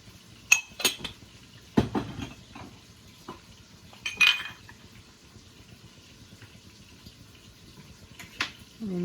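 Eggs seasoned with salt and pepper are stirred in a pan for breakfast burritos, giving scattered clinks and scrapes of a utensil against metal over a soft background sizzle.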